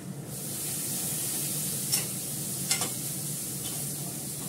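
Bay leaves dropped into hot oil give a steady, broad sizzling hiss, with a few brief crackling bursts near the two- and three-second marks and no talking.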